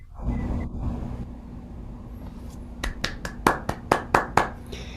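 Applause following a choir song at a gathering on reparation and listening, beginning as a low murmur and then a run of about eight sharp, separate claps in the final two seconds, near and fairly loud.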